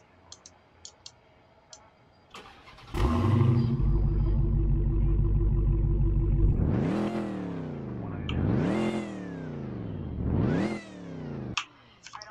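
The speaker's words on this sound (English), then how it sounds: "I've got my Dodge Charger Daytona here, and yeah, I'm just going to see how it sounds." A Dodge Charger Daytona in a Roblox video game: a few clicks, then the engine catches into a loud steady idle and revs up and down three times in rising, falling sweeps before cutting off.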